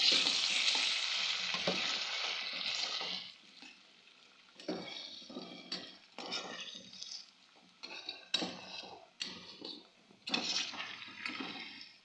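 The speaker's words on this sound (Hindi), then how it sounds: "इसे मैं अच्छी तरह से फ्राई कर लूँगी तकरीबन 2 से 3 मिनट के लिए" Garlic, ginger, tomatoes and green chilies frying in a pan: a loud steady sizzle at first, then intermittent bursts of sizzling as a spoon stirs and scrapes against the pan.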